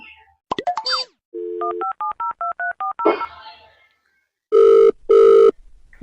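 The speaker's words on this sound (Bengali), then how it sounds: "রিং হচ্ছে রিং হচ্ছে" Rapid telephone keypad beeps of a number being dialed, then two long, loud ring tones on the line.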